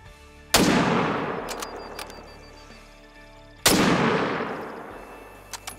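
Two loud, close rifle shots roughly three seconds apart during a Colorado mule deer hunt, each a sharp crack trailing into a long rolling echo across open country.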